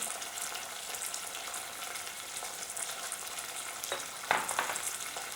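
Cuttlefish cooking in a pan for a Tunisian tajine, giving off its own liquid, sizzles and bubbles steadily up close, with a couple of brief stirring clinks near the end.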